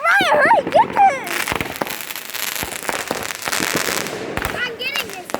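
Loud crackling bursts of Fourth of July fireworks fill the air with rapid sharp pops and sustained fizzing at close range, while excited children's voices shout and squeal at the start and end.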